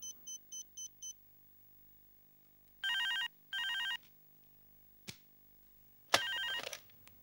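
An electronic telephone gives a few quick chirping beeps, then rings in loud paired bursts, with a thump between rings and a final ring cut short as the phone is picked up.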